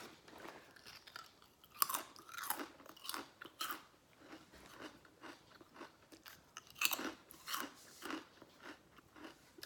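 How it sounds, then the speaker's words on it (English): Crunchy veggie chips being chewed up close during a lasagna mukbang, crisp irregular bites and crackling crunches coming in bursts, quiet and unaccompanied by talk. "I also have some veggie chips for a little crunch factor."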